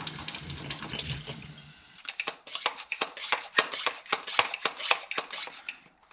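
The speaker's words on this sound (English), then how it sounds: "I'm just putting some in here and then put some warm water in." Warm water runs into a container while a truck seat is being cleaned, a steady splashing pour at first, then giving way to a series of sharp rhythmic clicks or spurts.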